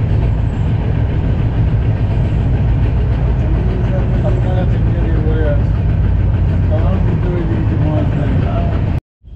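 The New Jalpaiguri to Howrah Shatabdi Express runs along the track, heard from inside as a loud steady rumble with rhythmic wheel clatter, faint voices in the carriage, cutting off abruptly near the end.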